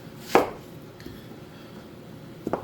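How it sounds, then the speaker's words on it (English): Knife cutting a big yellow onion into thin slices on a board: one loud chop near the start, a faint tap midway and a pair of quick cuts at the end, with quiet kitchen background between. "So all we're going to do is just cut this into thin slices."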